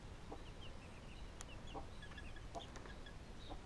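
Gauloise hens clucking softly in a coop, several short clucks spread over a few seconds at moderate distance, with no talk.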